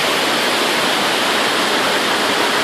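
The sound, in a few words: river flowing through a gorge near Piha Beach, New Zealand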